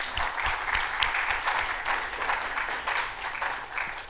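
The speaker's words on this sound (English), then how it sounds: "we give a hand of applause to our panelists" An audience at a finance panel discussion applauds the panelists, a soft, steady round of clapping with distinct individual claps that carries through the whole stretch at moderate distance.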